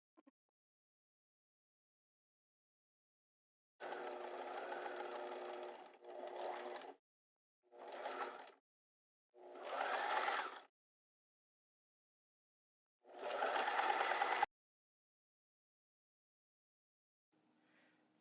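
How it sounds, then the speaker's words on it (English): A sewing machine stitches down a sleeve hem on a square-neck top in several separate bursts of varying length, with silent pauses between the runs. "So this is sewing down the seam, the sleeve hem"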